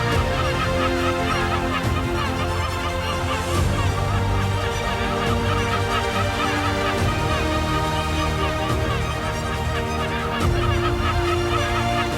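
Geese and other fowl honk and call in a dense, continuous chorus at Bənəniyar lake, a large reservoir in Nakhchivan, Azerbaijan, where birds nest on the islands; the calls are loud and steady throughout, with no talking.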